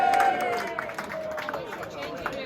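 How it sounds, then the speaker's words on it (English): Applause and a crowd's cheering for rugby players and officials at a clubhouse gathering, scattered claps over loud babble and a voice talking through it. "Can we start with a big round of applause for the players and officials from Harrogate, please?"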